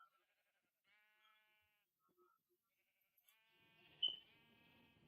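Sheep in the video game Minecraft bleat in two clear calls, the second longer and brighter, separated by a quiet gap with a faint thump near the end.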